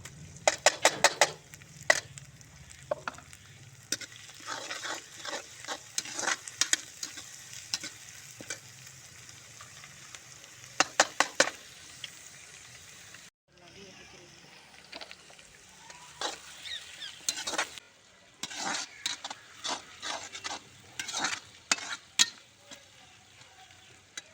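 Onions and chillies fry in a pan for a fenugreek sabzi, a low continuous sizzle broken by frequent sharp metallic clinks and scrapes of a spoon stirring against the pan.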